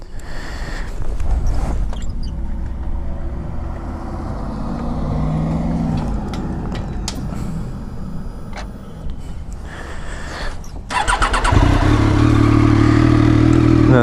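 A 2015 Triumph Daytona 675 triple runs with a low, raspy exhaust note that swells and fades through revs, then rises into a loud, strong, sustained roar at the end.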